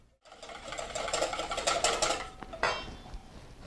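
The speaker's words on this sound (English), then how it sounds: "I'm going to start beating the egg just with a regular whisk" Egg and milk are beaten in a bowl with a regular whisk, making a fast rattling, clattering rhythm of wire against the bowl that runs for a few seconds before slowing.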